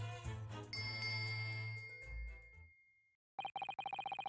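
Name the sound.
bell cord being tugged, ringing a bell, from the video game The Great Ace Attorney Chronicles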